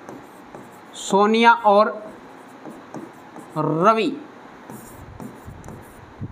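A maths answer being written by hand with pen on paper, giving soft, faint scratching strokes that run quietly under and between a man's spoken words.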